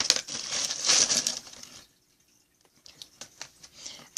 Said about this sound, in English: Sorry for eating on camera if I sound really loud.